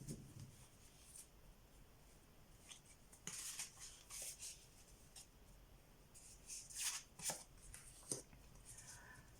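Gilded tarot cards are handled and shuffled, with soft riffling bursts and light slaps of cards arriving in clusters, close and fairly quiet, without speech.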